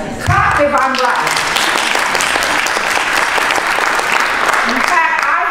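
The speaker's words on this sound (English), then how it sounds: "Clap if I'm right." Audience applause at a Ha Jin reading of Nanjing Requiem rises sharply after a short spoken phrase, then continues as loud, dense, steady clapping from a sizable crowd until the end.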